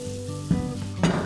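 Spinach sizzling in a hot pan as it is stirred, a steady frying crackle with two louder scraping stirs, close and alone without speech.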